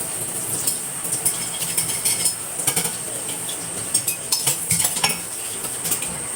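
A metal spoon clatters and clinks against dishes and pans during pitha cooking, with a string of short, fairly close taps and scrapes over a steady hiss and no talking.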